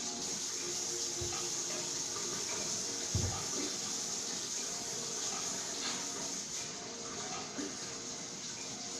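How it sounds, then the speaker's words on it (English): Hands washed under a running tap, a steady close stream of water splashing into a sink with a couple of small knocks, continuous throughout. "Make sure I wash my hands really good."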